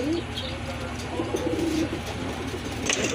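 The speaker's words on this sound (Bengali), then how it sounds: "আর এক জোড়া কবুতর দেখতে পাচ্ছেন এটা কিন্তু একেবারে হোয়াইট কালারের ভিতর এক জোড়া রেসার কবুতর" Racing pigeons, a white pair among birds for sale at a pigeon market, coo in soft, low, repeated phrases close by amid steady market background noise.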